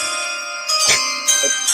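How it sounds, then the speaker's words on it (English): Bright chiming tones ring out in a short sequence, several struck notes sustaining over a soft background, close and clear. "We're getting the chimes in there"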